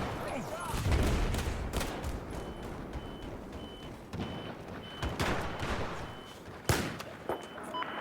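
Battlefield 4 combat with a steady patter of gunfire bursts and sharp shots, some near and loud, others distant, over constant battlefield rumble and vehicle noise.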